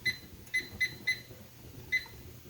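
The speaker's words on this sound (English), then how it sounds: "I'm going to set the timer for 10 minutes." A kitchen timer beeps during jalapeño canning, five short electronic beeps in a quick irregular pattern, fairly faint against a quiet room.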